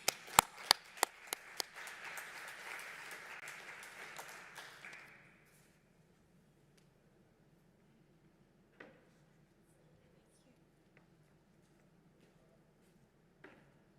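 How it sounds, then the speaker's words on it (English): Applause from a conference audience welcoming a speaker at a sustainability event: a few sharp separate claps build into a brief, fairly faint patter that fades out after about five seconds, followed by near silence and a few small knocks. "Please join me in welcoming Diana with a warm applause."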